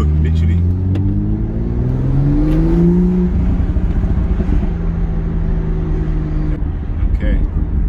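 BMW M2 pulling hard in sport mode, a loud close engine roar rising in pitch through the revs, then settling into a steady drone while a driver talks over it.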